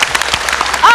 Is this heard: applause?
yes